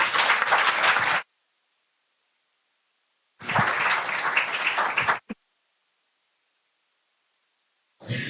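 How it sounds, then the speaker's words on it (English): An audience at a law school lecture breaks into applause after an introduction, in two dense bursts of even clapping separated by silence, with a brief third burst starting at the end. "Ladies and gentlemen, please give him a special applause."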